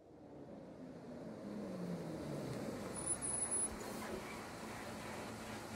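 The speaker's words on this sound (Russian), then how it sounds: "Звук работающего двигателя вернул меня к реальности. Подъехал автобус." Bus engine idling and rumbling as the bus pulls up in the visual novel game Everlasting Summer, a faint low steady drone under quiet ambience with a brief soft rise midway.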